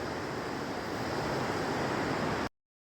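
The Tons river rushing past its bank in the hills near Mori, a steady broad roar of flowing water that cuts off abruptly near the end.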